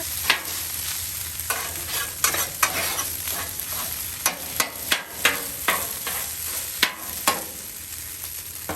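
Fried rice sizzles steadily on a hot Blackstone griddle while a spatula scrapes and stirs it in repeated sharp strokes, close and clear with no talking.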